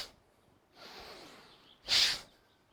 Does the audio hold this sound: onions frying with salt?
no